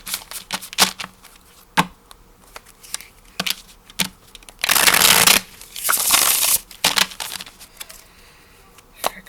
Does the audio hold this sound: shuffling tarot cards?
yes